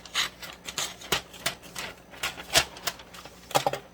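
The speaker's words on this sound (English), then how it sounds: "I am going to cut butcher paper for the top." Scissors snip through butcher paper in short, irregular crisp cuts with light rustling between them, close and fairly quiet, with no one talking.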